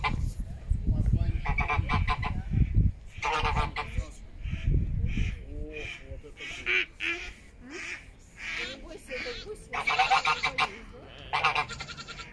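Geese honk loudly and repeatedly in close bursts by the Desna River embankment, with shorter calls between them, rough low rumbling noise at times and faint voices mixed in.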